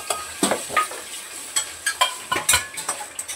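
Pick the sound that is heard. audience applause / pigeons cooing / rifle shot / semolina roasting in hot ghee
semolina roasting in hot ghee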